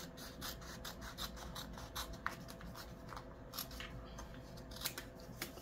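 Scissors snip steadily through diamond art paper on a desk, a rapid run of close, crisp cuts and rasps in a quiet room.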